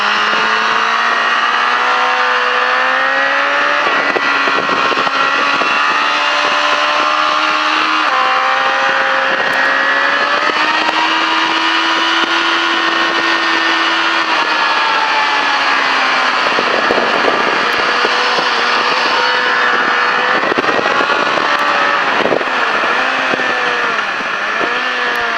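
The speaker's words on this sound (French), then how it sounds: "Et là tu peux relever la moto et accélérer." Motorcycles on a race track at a French ride day, engines rising and falling in pitch as they accelerate out of corners, a loud continuous multi-engine drone with gear changes across the whole stretch.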